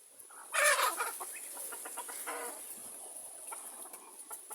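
Chickens cluck and cackle nearby, one loud burst followed by softer scattered clucks over a constant high background whine.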